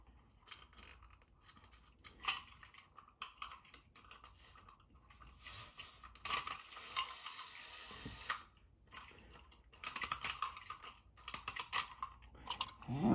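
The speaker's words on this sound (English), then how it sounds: "Let's wind him up off camera." A Mr Robot Mechanical Brain wind-up toy robot is wound by hand, producing close, faint clicking and ratcheting from its mechanism in irregular bursts with short pauses.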